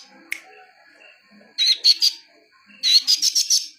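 Caged songbird used for song-mastering sings two bursts of rapid, bright chirping phrases, close and loud, after a single sharp call, with a faint steady whistle-like tone between.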